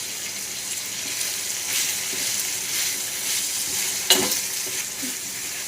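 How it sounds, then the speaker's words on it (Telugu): Chillies and masoor dal tempering sizzle in hot oil for a mirchi and tomato dal, a steady close crackling hiss with stirring sounds and one sharp clatter partway through. "సౌండ్ ఎలా రావాలంటే చుర్రుమని సౌండ్ రావాలండి."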